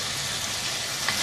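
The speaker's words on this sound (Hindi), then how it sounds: "इसको 3-4 मिनट अच्छी तरह से भून लेंगे।" Mutton frying with spices in a pot, a steady close sizzle holding evenly through the short stretch with one small pop near the end and no voices.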